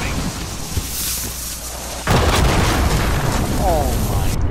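A cruise missile strike explodes in Call of Duty: Modern Warfare with a sudden heavy boom about two seconds in, followed by sustained loud rumbling blast noise over earlier gunfire and game ambience.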